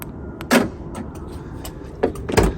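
A power door lock actuator on a 1998 Ford Ranger clunks as it unlocks, a couple of short mechanical thuds close by with faint clicks between them.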